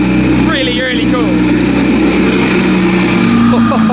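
A low, wide turbocharged sports car likened to a GT3 RS rumbles and revs close by, a loud steady engine drone with rising whine, under people talking.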